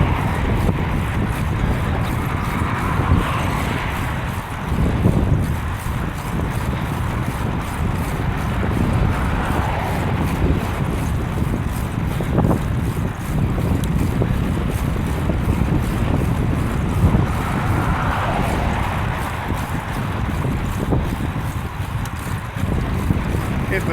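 Wind buffets a microphone during an early-morning ride in the dark, a steady low roar with gusty swells filling the whole stretch.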